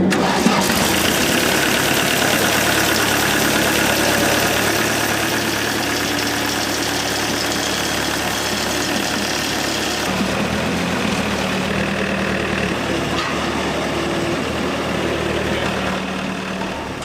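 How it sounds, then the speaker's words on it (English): A homemade tractor engine runs steadily for the whole stretch, a loud, rough, knocking mid-pitched drone that changes tone partway through but never stops. "a young man who's making a tractor"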